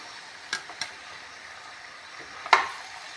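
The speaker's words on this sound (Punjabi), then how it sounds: "ਮਸਾਲੇ ਦੇ ਵਿੱਚ ਵੀ ਸਾਰੀ ਸਬਜ਼ੀ ਨੂੰ ਚੰਗੀ ਤਰ੍ਹਾਂ ਮਿਕਸ ਕਰ ਦੇਣਾ" Carrot, pea and potato curry vegetables stirred into masala in a pan, a few sparse scrapes and clinks of a spoon over a faint background hiss, with one sharper scrape near the end.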